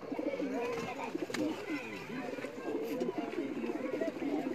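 Breeder's pigeons cooing in a loft, several overlapping throaty coos repeating close by, with someone talking in Hindi-Urdu underneath.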